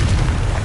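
A Confringo fire spell blasts in a Harry Potter video game, making one short, loud, deep boom that fills the whole moment with a rumbling burst.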